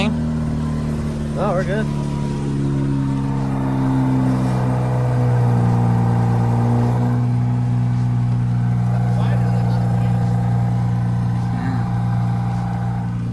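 Mazda RX8 rotary engine idling with a steady low drone and a slight rise in revs, heard close up under brief talk.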